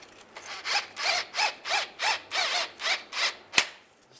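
A ratchet driving a 13mm socket to tighten transfer case bolts on a 2007-2013 Chevrolet Silverado, eight steady rhythmic clicking strokes close up, ending with a sharp metallic tap.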